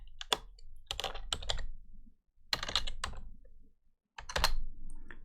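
Keystrokes tap on a computer keyboard in short clustered bursts with brief silent gaps, close and fairly quiet, with no talking.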